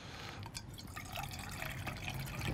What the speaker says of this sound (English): It's time to pour it in.